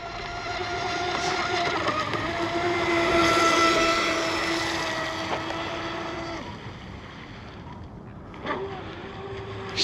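A Seaducer SD3 FE-30 RC mono hull boat running through choppy water at speed, a high electric motor whine that swells and fades with distance, then cuts off near the end, no talk.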